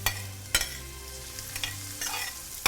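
Shrimp sautéing in butter and garlic in a pan make a soft sizzle, broken by a few sharp clacks of a slotted spoon against the pan, quiet and close with no voices.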